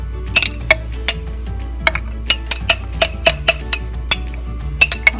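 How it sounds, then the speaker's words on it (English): Spices, salt and a little water being stirred into a sauce in a bowl, a spoon clinking against the sides in a quick, irregular series of sharp taps, close by with no talk. "Give it a good mix."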